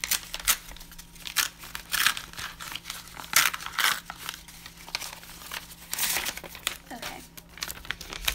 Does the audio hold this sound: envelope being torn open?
yes